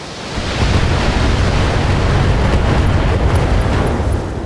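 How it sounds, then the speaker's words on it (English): A mech's ammunition detonating in BattleTech gives a loud, sustained roaring blast that rumbles steadily for several seconds after a short quiet lead-in. "Ammo explosion!"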